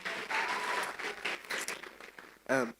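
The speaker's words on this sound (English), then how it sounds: "Please give him a round of applause again." An audience applauds briefly at a school event, a moderate wash of clapping with a short voice-like burst near the end.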